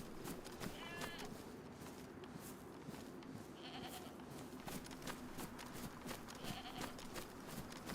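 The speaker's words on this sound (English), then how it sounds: "There is a goat here." A goat bleats twice in the DayZ video game, quavering calls at moderate distance over a steady outdoor ambience with no talking.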